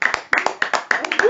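A small group claps in short uneven bursts, several pairs of hands close by, with voices talking over and between the claps.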